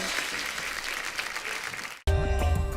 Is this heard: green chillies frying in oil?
no